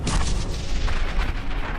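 An anti-tank mine blast strikes an armored personnel carrier in a war setting, a loud, dense rumbling burst that fills the short stretch with heavy low roar and crackle, no voices over it.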